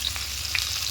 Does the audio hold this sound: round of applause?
no